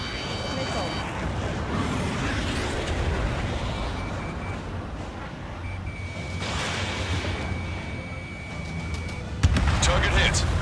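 Missile launches and explosions in the Ace Combat 7 combat flight game, with dense rumbling blasts and whooshes running continuously, a steady warning tone partway through and a sharp burst near the end, under a voice.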